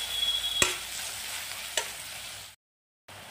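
Onions seasoned with salt and cumin powder are stirred in a pan, a soft sizzle under two sharp spoon knocks against the metal, before the sound cuts out briefly near the end.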